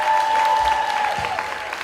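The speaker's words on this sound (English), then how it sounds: "a big round of applause for Yehuda!" A crowd at a large event breaks into applause, a dense wash of clapping with a few cheers, with a voice briefly audible over it, for under two seconds.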